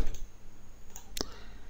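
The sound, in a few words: computer mouse clicking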